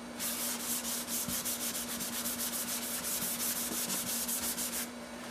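Fine sandpaper rubs back and forth across the finish of a guitar body in quick, even strokes, a close scratchy hiss repeating over a steady low hum.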